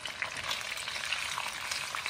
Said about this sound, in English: Take 1 cup of oil in a pan and start frying the fish.